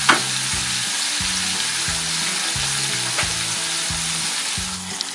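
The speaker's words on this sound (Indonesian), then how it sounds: "Kita tumis sambil nunggu lelenya matang ya" Spices and bruised lemongrass with bay leaves and lime leaves sautéing in a pan for catfish bumbu rujak, a steady loud sizzle with a rhythmic low thumping pattern running underneath throughout.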